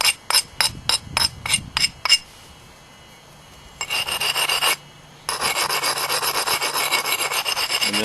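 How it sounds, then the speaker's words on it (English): Stone point being brushed clean of small flakes during pressure flaking, heard as a run of quick, sharp rasping strokes, then longer back-and-forth scraping passes, close and fairly loud, with no talk. "just kind of brush those small little flakes off of there. I like to do it in both directions."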